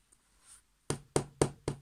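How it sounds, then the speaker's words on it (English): Knocking on a door: four firm, evenly spaced knocks, close and distinct, following a few faint soft sounds in near silence. "Knock, knock, knock. Good gracious," said Percy. "It's the door again"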